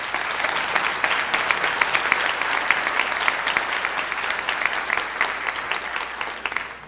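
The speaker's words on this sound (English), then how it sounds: "Let's give Anne Marie a round of applause." An audience at a conference session claps steadily, a dense, even patter of many hands that holds at a constant level from start to finish without any voices.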